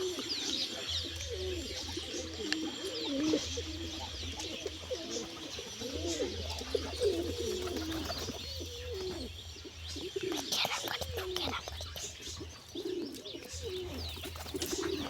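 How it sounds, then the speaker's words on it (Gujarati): Pigeons coo steadily in low, rolling calls close by, with occasional chirps and soft rustling mixed in, carrying on for the whole stretch. "કબૂતર ઉડતું ઉડતું આવી ગયું છે"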